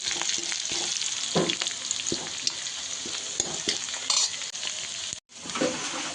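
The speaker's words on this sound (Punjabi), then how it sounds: "ਇਹਦੇ ਪਿਆਜ਼ ਆਪਣੇ ਭੁੱਜ ਗਏ ਆ" Sliced onions and green chilies fry in a pan for an aloe vera curry, with a steady close sizzle under repeated scraping stirs of the utensil against the metal, and no one speaking.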